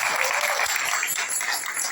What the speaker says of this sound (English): So give another round of applause.